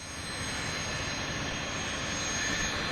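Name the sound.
Brazilian Air Force military cargo plane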